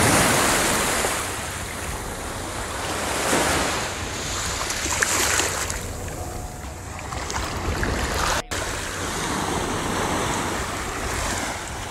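Ocean surf rolls in steadily at Pompano Beach, Florida, a loud, continuous wash of breaking waves with gusts of wind buffeting the microphone and no voices.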